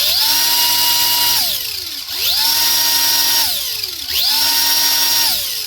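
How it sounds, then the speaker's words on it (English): Furitek Nanodrive 380 RC drift car motor revving up to a high-pitched whine, held at full speed, then spinning down, repeated three times in close, loud, steady cycles. "what kind of RPM we're getting out of that motor"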